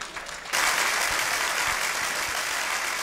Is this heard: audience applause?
yes